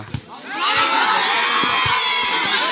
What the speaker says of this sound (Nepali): क्राउडको हल्ला पनि देख्न सक्नुहुन्छ